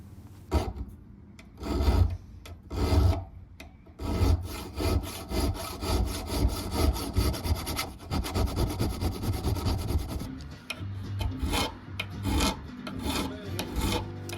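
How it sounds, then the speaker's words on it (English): A hand file rasping into a knife handle being shaped for a bowie knife made from a lawn mower blade, close and loud rhythmic back-and-forth strokes in long continuous runs with short pauses. "So now I've got to use some files to carve in this little round spot."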